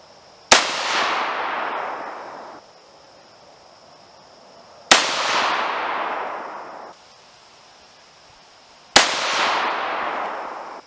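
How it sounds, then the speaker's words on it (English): Custom AR-15 firing a .223 Rem handload with 80-grain SMK bullets: three loud single shots spaced about four seconds apart, each a sharp crack trailing into a long rolling echo outdoors. "That was a good shot."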